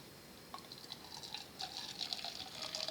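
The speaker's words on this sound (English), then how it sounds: "we're gonna put a 1/4 cup of boiling water, very, very hot water, in and start stirring until all of the gelatin is dissolved" Very hot boiling water is poured into gelatin for birdseed cookies, a soft, steady trickle with faint splashy drips building gradually, quiet and close with no talking.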